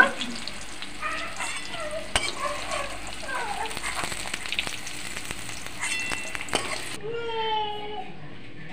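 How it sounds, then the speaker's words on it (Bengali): Potatoes and pointed gourd fry in hot oil with a steady sizzle and stirring scrapes, while a voice chatters over it in the background. "পটলের আলুগুলো লাল লাল করে ভাজা হয়ে গেছে,"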